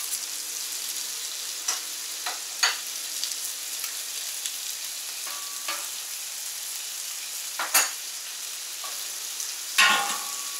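Potatoes frying in butter on a Camp Chef FTG600 flat top griddle give a steady, close sizzle, broken by occasional clicks and scrapes and a louder spatula scrape near the end.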